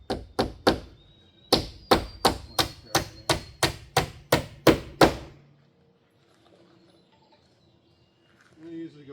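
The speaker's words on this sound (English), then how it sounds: "Trying to be careful around this edge when I'm nailing because I don't want to hit the trim on the camper and damage it." Hammer driving nails into the wood framing of a wood stove room built onto a camper, about a dozen sharp, close, evenly spaced blows in two bursts, followed by near silence with faint rustling.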